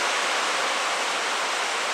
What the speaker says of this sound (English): it's pouring down rain, so it's probably a little hard to hear me